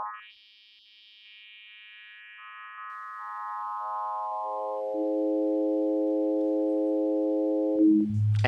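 Modular synth patch whose envelope steps a pure tone through separate stages, descending in pitch in steady steps, holding a sustained drone, then dropping at the end into a low hum; no voices.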